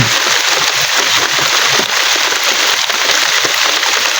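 Heavy, continuous rain that has fallen for weeks, hiding the nearby mountains, pours down as a loud, unbroken, even hiss with a dense patter and no pauses.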